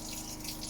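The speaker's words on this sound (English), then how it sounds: "I'm going to put on the water straight away." Hot water runs steadily from a kitchen tap into a sink for dishwashing, a continuous close rushing flow with no pauses.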